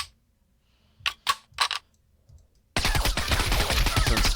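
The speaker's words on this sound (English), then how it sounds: "Right, the MP7. This one is, you know, pretty simple SMG." An MP7 submachine gun fires in Minecraft with Flan's Mod. Three or four crisp, close, separate shots are followed by a loud, continuous burst of sustained fire.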